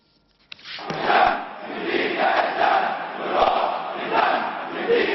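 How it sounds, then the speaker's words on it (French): A crowd of protesters in Cairo chants anti-American slogans in rhythmic, massed bursts that swell and fall repeatedly, loud and fairly close after a silent start. "Avec notre esprit et notre sang, nous nous sacrifierons pour l'Irak, crie la foule"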